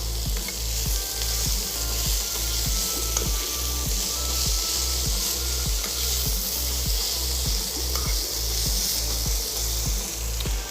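Vegetables sizzle steadily as they are stir-fried in a hot pan, with a constant bright crackle and soft scraping strokes of stirring, close and continuous without speech.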